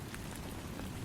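Steady rain falls in a dense, even patter with a low rumbling wash beneath, continuous and unbroken, with no voices.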